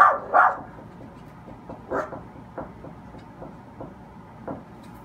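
A dog barks a few times, two quick barks up front then scattered single ones, moderately close in a quiet room.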